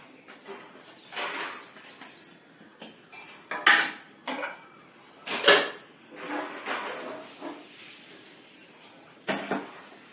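Steamed banana stem for a buttermilk kootu being moved into a cooking vessel, with a series of close metal utensil clanks and scrapes coming in uneven bursts, several sharper knocks standing out.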